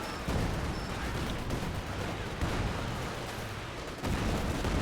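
Mortar and artillery fire booms in a Company of Heroes 2 battle as a British force plays. Explosions and gunfire layer into a continuous, loud barrage with no voices over it.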